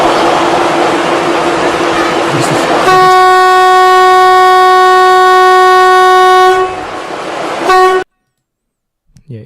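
A loud train rushes past, its rumble building before a sustained blaring horn takes over, then cuts off abruptly into near silence.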